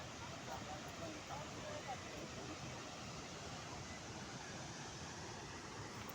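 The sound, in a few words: Tirathgarh waterfall, Chitrakoot, water falling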